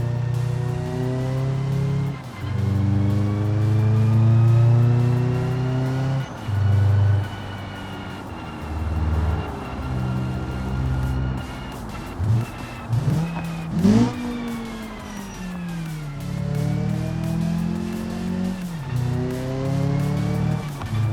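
An off-road car in BeamNG engine braking downhill, the motor droning and rising and falling in pitch as it holds the speed back, with brief dips and surges and some tire and chassis noise, loud and steady throughout.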